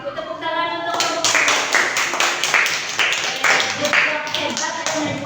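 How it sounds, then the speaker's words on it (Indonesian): A classroom group gives applause for the presenting group, a close burst of many hands clapping in a brisk, uneven rhythm that stays steady for several seconds, with voices mixed in. "Tepuk tangan untuk kelompok"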